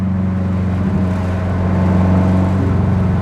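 The engine of the FP Blue car idles and rumbles on its first test drive, a steady loud low drone from inside the car with a slight rise in pitch as it revs.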